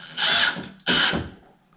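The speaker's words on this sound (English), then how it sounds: "I should probably just be using a regular drill, but I like this little guy better." A small drill driving screws while hanging a door whirs in two short, loud bursts close by, separated by a brief pause.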